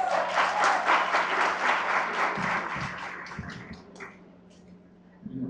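Audience applause at a youth forum with Medellín mayoral candidates, brisk clapping from a roomful of people that thins into a few scattered claps and fades out before a brief noise at the end.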